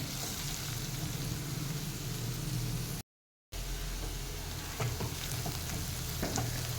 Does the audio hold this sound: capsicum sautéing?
yes